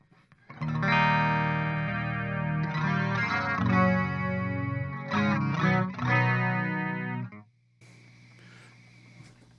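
A clean electric guitar playing sustained chords through a Chorus Ensemble effect, a shimmering chorus with a wide, wavering tone, fading to quiet near the end.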